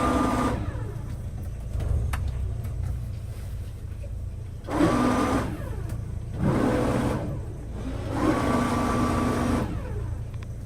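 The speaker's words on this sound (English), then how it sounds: "Now we're just using front thruster." Bow thruster on a Ranger Tug R27 boat whirs steadily with a low hum, swelling louder in three bursts as it pushes the bow sideways, heard close with no talking.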